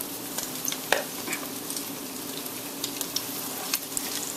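Salmon patties fry in a pan with a steady, close sizzle and scattered small pops and crackles throughout.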